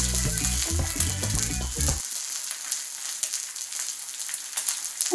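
Meat sizzling and frying as it grills on a slab of crystal, a dense continuous crackle, with a low thumping rhythm under it that stops after the first two seconds.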